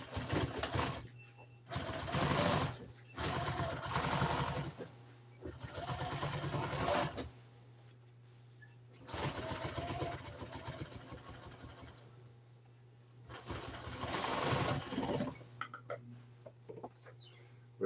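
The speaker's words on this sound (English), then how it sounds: "this piece right here goes on, and then we'll sew that other piece right there" Fabric pieces are being stitched together on a sewing machine, which runs in several bursts of rapid, close mechanical whirring separated by short pauses, the bursts fairly loud and alone.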